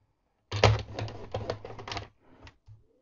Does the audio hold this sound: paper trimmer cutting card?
yes